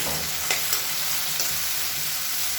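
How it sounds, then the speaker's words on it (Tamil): Chopped tomatoes go into a pan of sautéing onions for a chutney, giving a continuous loud, close sizzle with a few light stirring knocks and no voice. "இப்போ மீடியம் சைஸாக 2 தக்காளி சேர்த்துக்கலாம்"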